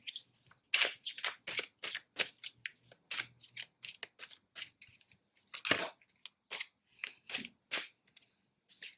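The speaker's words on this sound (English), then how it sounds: "I'm having a hard time like shuffling this deck right now" A deck of tarot cards being shuffled close up, a series of crisp riffling bursts and slaps in an irregular rhythm with brief quiet gaps between them.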